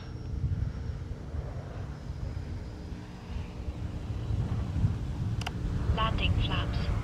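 FMS Viper RC model jet climbing out fast into the wind, a steady turbine-like whoosh with wind buffeting on the microphone and someone talking over it.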